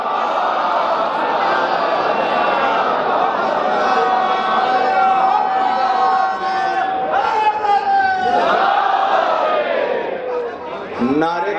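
A large religious gathering at a Maulana's speech in Allahabad responds together in a loud, sustained collective recitation, many voices blending into one continuous chant that swells and shifts pitch before tapering off at the end.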